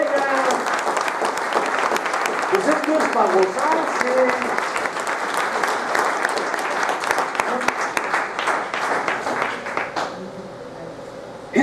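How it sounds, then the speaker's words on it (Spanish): A church congregation applauds together in a loud, sustained burst of clapping. A preacher's voice talks over it, and the clapping thins out near the end. "Denle un aplauso al Señor."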